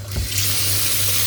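Tap water runs and splashes onto raw chicken gizzards and liver in a kitchen sink, a steady close spray that fills the short moment without speech.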